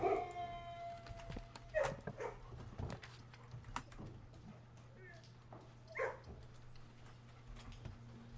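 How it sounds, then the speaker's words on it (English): Digital dogs howling and barking in the kennel of the video game Blue Prince, a few short bursts near the start and middle over a low steady hum, with a voice speaking alongside. "Hello, digital dogs."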